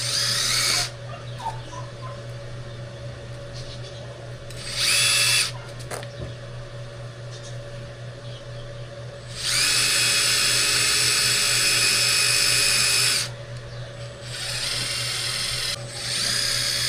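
A small drill bit bores a tiny hole, whining in several bursts of varying length, one short, one long and sustained, over a steady background hum.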